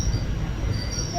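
Train wheels squeal as a train pulls into Nemom railway station in the rain, a thin steady high-pitched screech riding over a heavy, close rumble of the carriage.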